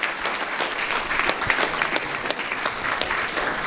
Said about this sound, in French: Je demande à ce que toute la salle applaudisse